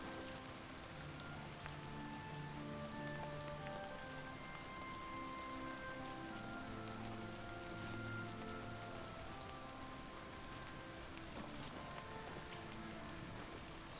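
Steady, soft rainfall patters continuously in the video game Oblivion Remastered, with faint sustained game music tones underneath and no voices.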